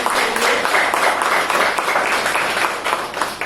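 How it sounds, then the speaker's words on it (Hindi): An audience at a Shri Krishna Janmashtami gathering bursts into loud, close applause, many hands clapping continuously and fading slightly near the end. "जोरदार तालियां हो"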